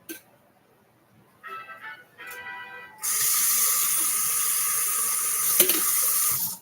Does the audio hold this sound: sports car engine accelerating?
no